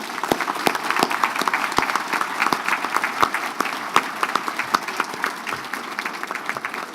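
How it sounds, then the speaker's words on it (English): A crowd applauds steadily, dense clapping filling the space with sharper individual claps popping out, sustained throughout without voices. "We'd like to give everyone one more round of applause"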